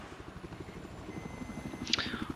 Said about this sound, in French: l'hélico de Prolosco qui gagne son duel aérien